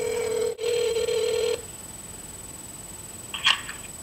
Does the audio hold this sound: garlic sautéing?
no